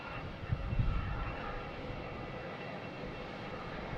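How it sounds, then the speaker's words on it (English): An Air Canada jet airliner bound for Toronto lines up on runway 27 at Boston Logan, its engines giving a faint, distant, steady rumble and whine with a slight swell early on. "We have an Air Canada heading to Toronto, lining up on"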